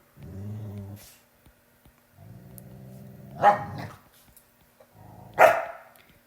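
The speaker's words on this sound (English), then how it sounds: "you hear that dog?" A dog barks and growls nearby in short bursts, with two sharp, louder yaps standing out among rougher, lower vocalizations.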